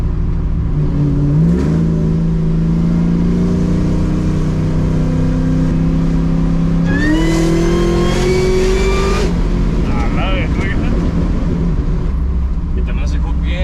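Inside the cab of a 700 horsepower Dodge Ram truck, the engine drones loudly and then surges as the truck accelerates, its pitch climbing through a rising rev before easing off again.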